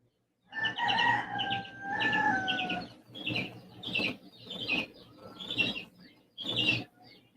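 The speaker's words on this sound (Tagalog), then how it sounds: "Ang ingay ng manok ko." A rooster crows repeatedly at close range, long drawn-out calls followed by shorter bursts, with some clucking between crows and no talking.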